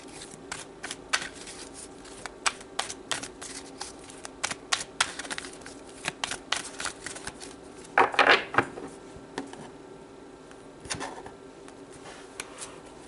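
Tarot cards shuffled by hand in a series of quick, crisp riffles and flicks, with a louder burst of card slapping midway, close and alone without talk.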